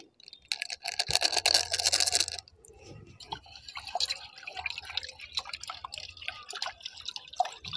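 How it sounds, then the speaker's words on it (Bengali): Jal jeera water is poured into a miniature panipuri setup, a close burst of splashing liquid followed by softer drips and small handling sounds, with no talking. "সবশেষে আমি এখন জল জিরা দিয়ে দিচ্ছি।"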